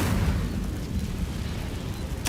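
Incendio fire spell cast in the Hogwarts Legacy video game, a loud, sustained whooshing blast of flame that roars evenly throughout with a sharp flick at the very end.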